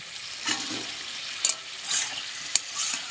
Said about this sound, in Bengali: এই যে কড়াইতে পেঁয়াজ দিলাম আলু দিলাম টমেটো দিলাম দুটো জিরে দিয়ে আর এই যে লবণ দিয়ে এখন এই যে রে কষাবো